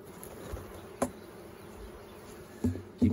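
Honeybees hum softly at a hive in a steady, faint drone, with a few sharp knocks and clunks close by.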